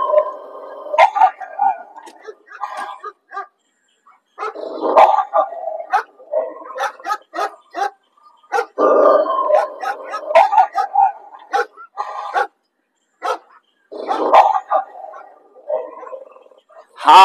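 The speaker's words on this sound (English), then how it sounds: "I'm going to play some barking on YouTube" Repeated dog barks, yips and growling howls played back as a recording, in irregular bursts with short pauses, fairly close and clear, without talking.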